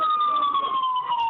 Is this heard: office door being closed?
no